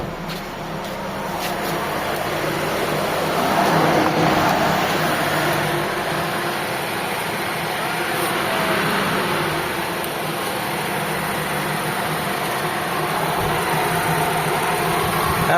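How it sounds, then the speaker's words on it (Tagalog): Car engine idling after a distributor repair, with a steady, smooth hum that holds at an even level for the full stretch, with no voices over it. "Kaya padinig ko sa inyo yung andar mga boss, sa makina na tayo pumunta."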